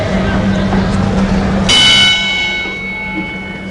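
Round bell ringing in a boxing match between Bennie Briscoe and Sammy Barr, a bright metallic ding struck partway through, ringing on and fading over crowd and commentary noise.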